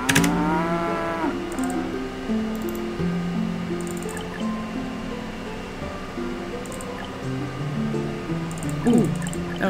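Cattle in the video game Settlement Survival moo repeatedly, several drawn-out calls overlapping at moderate volume over a soft wet squishing, dripping background.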